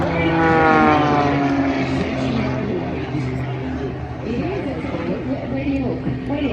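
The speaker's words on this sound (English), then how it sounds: "You've got planes everywhere." Aerobatic propeller planes flying a display at the Avalon Airshow, a steady loud engine drone with shifting pitch as aircraft pass and climb, under a commentator talking over a PA and crowd noise.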